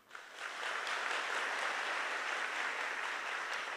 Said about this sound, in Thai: ผมขอเสียงปรบมือให้กับล้นหน่อยครับ